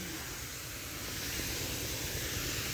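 Steady, loud hissing spray of a flowering spray being applied to kidney bean plants in a winter garden, continuous for the whole stretch with no pauses.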